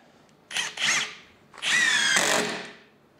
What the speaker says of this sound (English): the drill itself is actually cut out